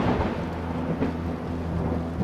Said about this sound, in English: The lightning and thunder continues on through the night.